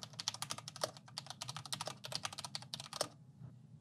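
Fast typing on an Ajazz K620T 60% mechanical keyboard, a quick steady run of sharp clicky keystrokes up close, fairly quiet, with no talking.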